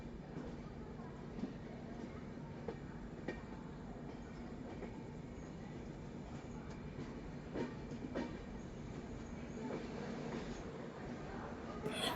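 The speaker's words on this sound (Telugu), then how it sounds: "విజయవాడ ప్లాట్‌ఫామ్ నంబర్ 5కి మన ట్రైన్ అనేది వచ్చేసింది" An express train pulls into platform 5 at Vijayawada station, its wagons rumbling steadily with repeated clickety-clack of the wheels over joints, heard fairly faint and continuous with a hint of distant voices.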